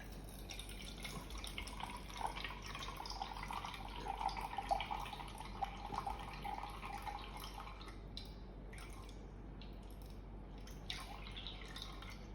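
Water trickles and splashes into a measuring cup as 100 ml is measured out, a faint, steady pouring with small drips that thins out and stops toward the end.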